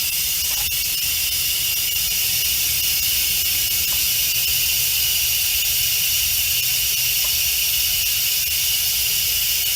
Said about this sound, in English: get all our pressure out so that it's safe for me to open my Instant Pot